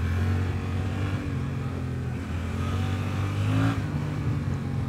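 A Suzuki motorcycle engine idling and revving nervously up close at a Suzuki festival, with a brief sharper rev partway through, loud and continuous.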